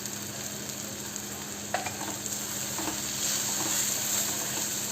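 Ground spices, garam masala, coriander powder, red chilli powder and turmeric, sauté in a pan over a medium flame with a steady loud sizzle and a few faint stirring scrapes.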